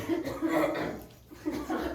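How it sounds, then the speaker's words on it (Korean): A sudden short cough from a student during a Korean literature class, a couple of quick throaty bursts close by with a chuckle-like quality, mixed with a little voice sound. "갑자기 기침을 해?"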